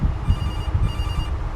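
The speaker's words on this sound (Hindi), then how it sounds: "यहीं से लग रहा है, तो यहीं पे बज रहा है फ़ोन।" A telephone rings in the horror video game Case Animatronics, a steady electronic ringtone repeating over a low hum, close and fairly loud with no voices.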